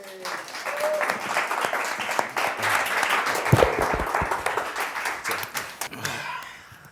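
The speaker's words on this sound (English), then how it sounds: "Give me a round of applause." An audience applauds a young performer's father as he is introduced, a dense, lively clapping lasting several seconds that swells and then thins out toward the end, with a few voices mixed in.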